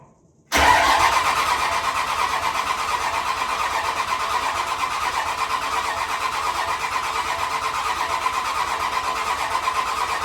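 A Cummins diesel truck engine with a six-speed, recently revived after sitting abandoned, cranks briefly and catches, then settles into a loud, steady, rough idle that runs alone to the end.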